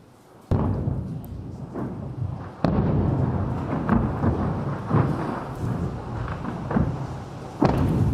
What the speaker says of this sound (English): missiles are falling on Tel Aviv right now, live, and the upward flares would be, those are the interceptions, would be Israel's anti-missile